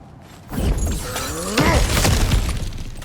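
Objects are smashed in God of War Ragnarok, starting with a quiet lull before a loud crash of shattering and breaking debris, followed by a second heavy burst of crumbling and clattering pieces.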